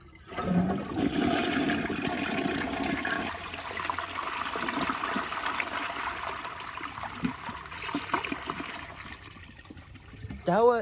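An older Jacuzzi Perfecta toilet flushes with a loud, sustained rush of water lasting about ten seconds, then tapers into a gurgling trickle at the end.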